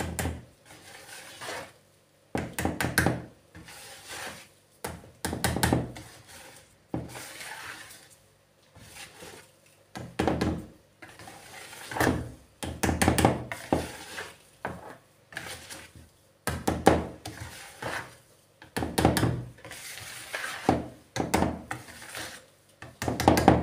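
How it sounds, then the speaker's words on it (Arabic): Repeated dull tapping and knocking of a baking tin being struck to shake off loose flour and cocoa, irregular bursts of thuds and rattles close up, with no speech. "نضربوا الفوي تاعنا باش يهبط هذيك الفارينه والكاكاو اللي لاصقين فيها"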